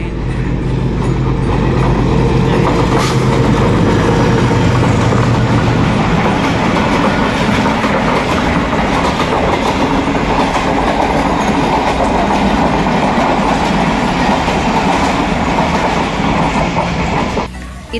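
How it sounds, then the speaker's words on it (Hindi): A train rolls past outside, loud and continuous for the whole stretch with a dense clattering of wheels on rails and a brief squeal, no talk over it. "बाहर से आ रही है ट्रेन ट्रेन ट्रेन ट्रेन।"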